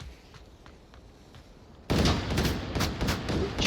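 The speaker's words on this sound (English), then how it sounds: "Gunshots could be a distraction." Gunfire in the VR shooter Onward during a competitive match, beginning abruptly after a quiet stretch, then repeated loud, close shots in rapid irregular bursts.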